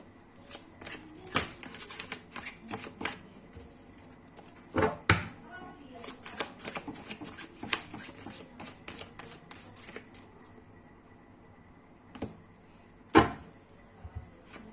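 Tarot cards are shuffled and riffled close up, producing bursts of crisp flicking and slapping with irregular rhythm, including a few louder snaps and pauses between bursts.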